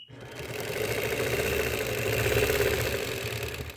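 A sewing machine runs steadily, stitching out a horizontal line along a quilting ruler on a square block, with a continuous even motor hum throughout and no talking.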